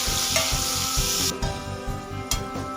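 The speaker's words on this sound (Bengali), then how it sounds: "পেঁয়াজটা লাল করে ভেজে নেব।" Chopped onion frying in hot oil with cumin seeds, a bright steady sizzle that drops in intensity midway, with rhythmic low stirring thumps underneath and no talking.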